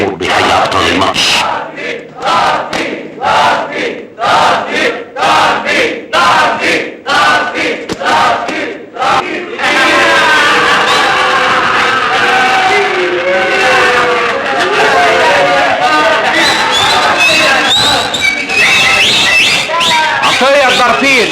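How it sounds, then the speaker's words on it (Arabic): Crowd at a boxing match cheering the fighters: loud rhythmic chanting and clapping bursts give way to a continuous roar of cheers and whistles, with a voice talking through it. "انا شايف دلوقتي الجمهور بيحيي ابطال الماتش"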